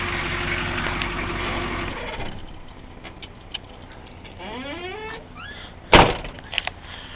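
A 1983 Chevrolet Suburban Silverado with a 6.2 diesel engine idles with a steady rumble, then is shut off and winds down to quiet, followed by faint clicks, a creaking and a sharp clunk near the end.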